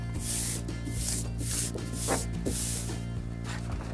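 Hands rubbing and smoothing a vinyl stencil down onto a painted wall, soft close swishing strokes repeating in a steady rhythm over a faint background hum, with no talking.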